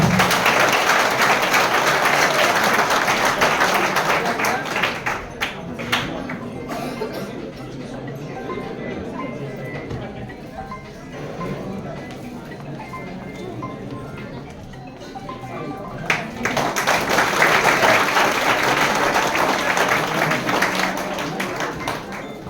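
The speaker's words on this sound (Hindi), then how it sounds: "देखिए तालियों की गड़गड़ाहट कम नहीं होनी चाहिए" Audience applause at a Constitution Day celebration, a dense burst of clapping that dips into quieter murmur and voices midway, then swells back to full, loud applause.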